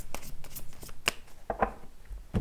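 Tarot cards riffled and shuffled by hand in brief crisp bursts with pauses between, close and fairly quiet, no talking.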